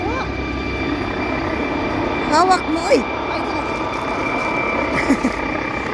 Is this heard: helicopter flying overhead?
yes